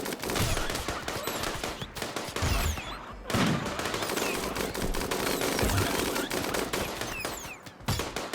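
Heavy, near-continuous gunfire in a video game where a sniper rifle is in play, with dense overlapping shots and no clear pauses.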